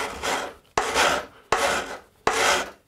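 A hand file takes long passes along the edge of a metal square. Four even rasping strokes follow one another in a steady rhythm, close and clear, with short pauses between them.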